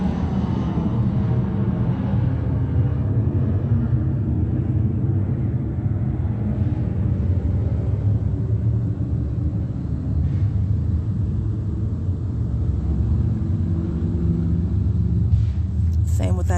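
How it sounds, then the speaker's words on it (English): Low traffic rumble picked up on a microphone in the early morning, a continuous steady drone with no distinct passing vehicles. "Same with that traffic sound."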